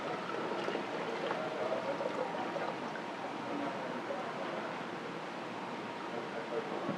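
Water draining from a spray booth ball valve into a bucket in a clay studio. The flow makes a continuous soft splashing and trickling, steady and faint, with no pauses.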